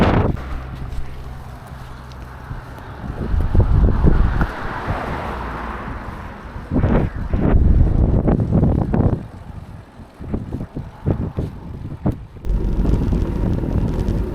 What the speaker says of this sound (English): We've got an absolute monster tailwind